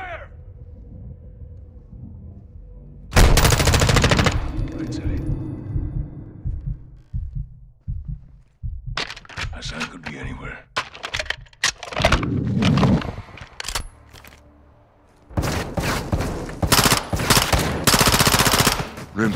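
Gunfire in Call of Duty: Modern Warfare II, with loud broadband bursts of shots arriving in several separate clusters, quieter pauses and scattered impacts between them, and no talk over the shooting.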